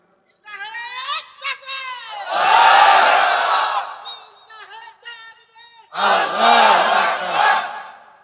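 Crowd of Muslim listeners at a Bangla Ramadan waz sermon shouting slogans in unison, two loud sustained chant bursts, between them a single voice leading the call.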